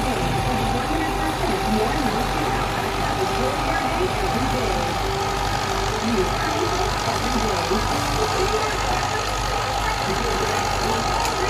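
A Massey Ferguson 290 tractor engine runs at a steady idle near a rice field, a loud, constant low throb with a slight knock, while people talk nearby.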